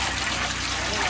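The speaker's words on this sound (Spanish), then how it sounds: "El espectáculo del agua fresca y cristalina cayendo embelesa sobre todo a los niños." Fresh, clear water pours steadily into buckets in a rural community in La Guajira, Colombia, a continuous close splashing flow with no pauses.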